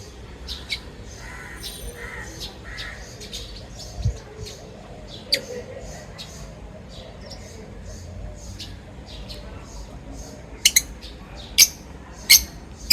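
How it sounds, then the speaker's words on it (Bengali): Pet birds kept in a cage on a hot balcony garden chirp in scattered short bursts over a quiet background, with a few sharper, louder calls clustered toward the end. "আরও বেশি কিচিরমিচির করবে"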